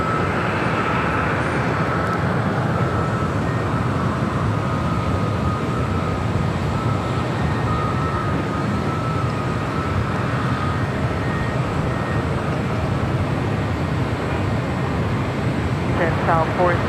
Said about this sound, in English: Next arrival, Alaska Airlines flight 289 coming in from Newark.